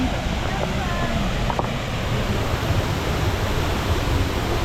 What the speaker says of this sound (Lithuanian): Nu va, priėjom dar vieną krioklį.